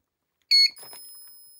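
A repaired Rutland ESB202 electric fence energiser powers up with a short, sharp electronic beep, followed by a faint steady high-pitched whine from the unit in a quiet room.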